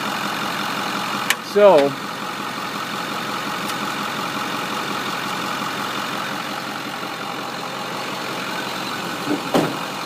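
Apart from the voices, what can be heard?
2008 Ford F250 Super Duty diesel engine idling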